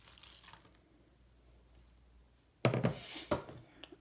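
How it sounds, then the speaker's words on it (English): A brief splashing gush of water poured into a bowl of baking soda and cornstarch after a quiet stretch, followed by a couple of smaller splashes and drips, close by. "we're going to add 3/4 cup water"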